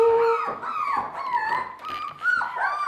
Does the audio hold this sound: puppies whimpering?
yes